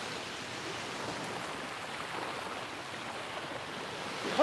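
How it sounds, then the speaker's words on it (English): Ocean waves wash steadily onto a quiet beach with no birds around, a soft, even surf hiss close by with no voices. "The water could not sound more beautiful."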